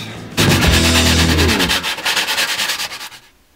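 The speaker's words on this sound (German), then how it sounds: "Und jetzt machen wir noch ein bisschen mit 240er ein bisschen glatt." Wood being hand-sanded smooth with 240-grit sandpaper while building a DIY Nerf target: close, loud, rapid back-and-forth scratchy rubbing strokes that fade out after about three seconds, with no talking.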